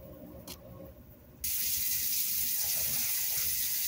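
Water runs from a kitchen tap for cooking Rice-A-Roni. After a second of quiet room noise it gushes on suddenly and keeps flowing as a steady, fairly loud hiss.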